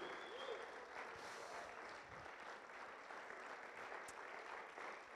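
A church congregation applauds continuously, a dense, steady wash of clapping heard at moderate distance, with voices faintly mixed in.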